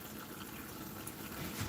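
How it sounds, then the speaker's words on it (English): Water poured in a small amount into a pot of beans cooking on the stove, a soft, steady trickle and splash, close and fairly quiet, running throughout without pause. "I'm just gonna add a tiny bit of water"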